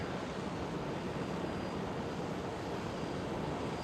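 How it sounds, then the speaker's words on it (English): A KLM Boeing 737 airliner slowly accelerates down runway 24 at Amsterdam Schiphol for departure, its engines a steady, distant broadband roar that holds even and unbroken throughout. "Slowly accelerating down runway 24 for departure."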